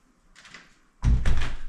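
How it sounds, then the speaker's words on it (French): A Nuki 3.0 smart lock releases and a door swings open: a soft mechanical whir, then a loud close thud and rattle of the door moving, with no talking. "il me permet d'ouvrir la porte"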